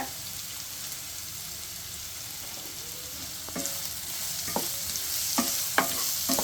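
Vermicelli upma ingredients sauté in a pan with a steady sizzling hiss, joined toward the end by several scraping, clinking stirs of a utensil; no one speaks.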